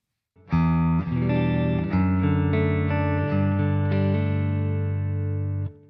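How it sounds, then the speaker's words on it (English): A clean, bright electric guitar rings out through a Bogren Digital MLC Subzero 100 amp, strummed chords sustaining evenly for several seconds with a slight effects shimmer, no voices. "so we can get those sort of nice pristine clean sounds"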